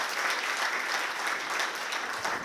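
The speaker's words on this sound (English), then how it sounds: "So please join me in another round of applause for our planning committee and everybody." At a 2018 Peralta Association of African American Affairs gala, a crowd applauds the planning committee with dense, continuous clapping, loud and close, holding even intensity throughout.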